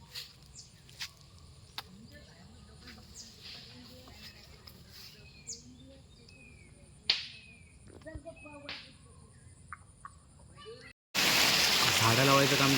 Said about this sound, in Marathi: जोरात असा पावसाने सुरुवात केली आहे